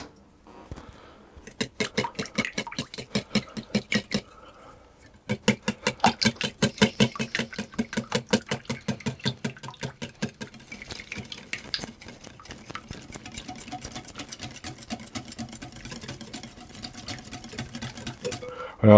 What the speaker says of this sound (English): And then I whisk those together.